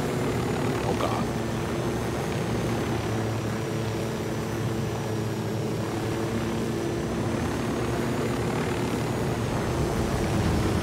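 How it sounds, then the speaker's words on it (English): A drone hovers overhead during a video game mission, giving a steady, loud whirring hum that holds unbroken for the whole stretch with no clear voices over it. "The drone is up."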